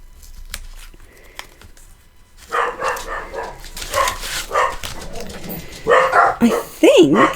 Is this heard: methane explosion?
no